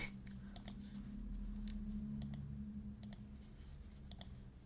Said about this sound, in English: I'm so sorry if I'm clicking too fast